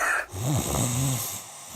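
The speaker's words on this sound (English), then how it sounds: "many problems that can keep you up at night, like snoring" A sleeper's loud, drawn-out snore rumbles with a wavering, throaty tone over one long breath, close and alone, in a mattress store's radio advertisement.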